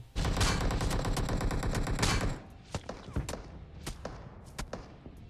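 Rapid automatic gunfire from BGMI fills the opening two seconds in a dense loud burst, then gives way to scattered single shots and thuds, some near and some more distant.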